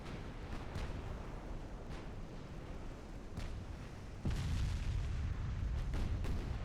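Secondary guns of a Royal Navy warship firing in Ultimate Admiral: Dreadnoughts, a steady run of dull booms over a rumbling battle bed, growing heavier and louder partway through.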